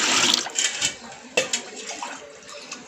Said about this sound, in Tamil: ஒரு ரெண்டு லிட்டர் தண்ணி ஆகிற மாதிரி நம்ம வச்சுருவோம்